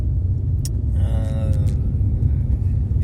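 Front brakes of a Lada Largus squeaking and grinding, a brief scraping squeal heard over the loud low rumble of the car while it moves.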